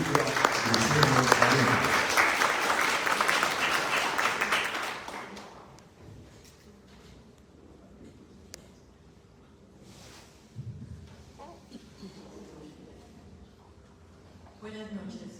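Loud audience applause at a mystical poetry book presentation, filling the first five seconds before fading into a quiet room, with someone speaking briefly over the tail.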